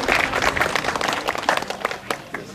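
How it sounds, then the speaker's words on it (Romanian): An audience claps for children at the opening ceremony of a forest reserve festival in Tătăruși, Romania, a brief burst of moderate applause from a nearby crowd. "Haideți să-i aplaudăm mai mult pe copii, să-i încurajăm."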